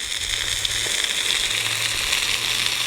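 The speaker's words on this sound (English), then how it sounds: "They're sizzling along quite nicely." Steady sizzling and crackling of meat frying in a hot pan, continuous and close, with no voices.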